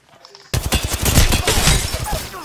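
Rapid gunfire erupts in an Apex Legends firefight, a loud dense fusillade of shots crackling nonstop after a brief quiet start.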